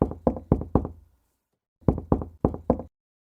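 A firm knock on a door sounds in two bursts of four raps each, loud and close, with a short silence between the sets and no talking.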